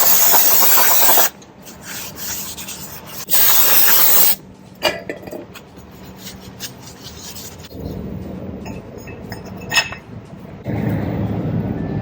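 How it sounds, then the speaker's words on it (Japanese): Spray cleaner hissing and a rag or brush scrubbing a car wheel hub on a F60 MINI Crossover before fitting wheel spacers, two loud spray bursts early, then intermittent rubbing and scraping, with another spray near the end. "ちょっと掃除しとこうかな。"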